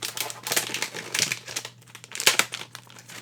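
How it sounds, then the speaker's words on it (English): Tape and wrapping paper being torn off a mailed book package: a run of crinkly, papery rips and crumples in uneven bursts, close and fairly loud, with no talking. "Gotta rip the tape, because you can't really rip the book."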